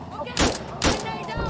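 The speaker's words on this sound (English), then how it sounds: "I think someone's trying to shoot at me." Two loud, sharp gunshot-like blasts about half a second apart in a first-person video game, with ringing tails and some background game noise between them.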